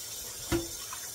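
Pork neckbones being rinsed again under a running kitchen tap to clear away scum: a steady hiss of flowing water with a brief splash as the flow hits the meat, and no voices.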